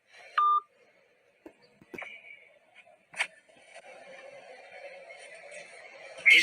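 A phone line's electronic tones sound as a call is hung up: a short sharp beep, a few faint clicks and blips, then a thin sustained tone that swells louder at the end, all fairly quiet.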